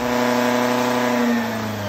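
A Top Fuel drag racing motorcycle engine holds a steady, high rev with strong harmonic tones. It eases off slightly near the end and nobody speaks.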